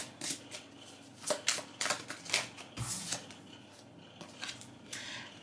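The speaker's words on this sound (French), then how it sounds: "c'est parti pour le tirage de tarot" Tarot cards shuffled and laid down, with soft crisp riffles and flicks in quick irregular bursts, close and fairly quiet.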